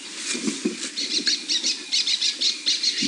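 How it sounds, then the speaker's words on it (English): Birds give repeated sharp alarm calls in rapid rhythmic bursts, with wingbeats, near a leopard moving through the bush on a morning safari drive. "You can hear the birds' alarm calling."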